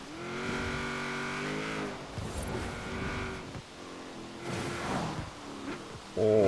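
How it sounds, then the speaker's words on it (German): A V8 car engine drives in the Forza Horizon 4 racing game, its steady harmonic drone shifting pitch with throttle changes and finishing on a louder rev near the end, with no talking. "Schön jetzt V8 fahren."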